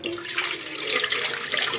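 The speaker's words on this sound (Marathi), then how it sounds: "पाणी टाकायचं। पाण्याला छान उकळी येऊ द्यायची।" Water pours steadily into an idli steamer pot set on a gas stove, making a continuous close splashing rush with no pauses and no voices.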